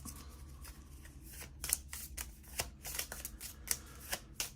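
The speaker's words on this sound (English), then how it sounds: "Let's shuffle this up." A deck of cards for a Marvel Legendary tabletop game is shuffled by hand in quick repeated riffles and snaps, close and fairly quiet, each burst crisp and short.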